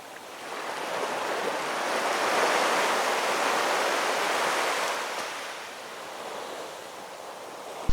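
Sea surf rolling in at Puri beach on the Odisha coast, a steady broad wash of breaking waves that swells louder in the middle and eases off toward the end, with no voices.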